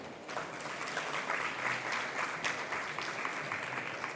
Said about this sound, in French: que je vous demande d'accueillir sous vos applaudissements